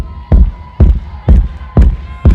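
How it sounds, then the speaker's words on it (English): Audience at a house dance battle semi-final clapping in unison, five loud, evenly spaced claps about half a second apart over a low crowd murmur. "Come on, put your hands together. Come on, let's clap it, y'all."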